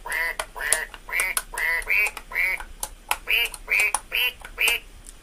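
A duck quacks about ten times in an even, repeated series, clear and fairly close, with no talk over it.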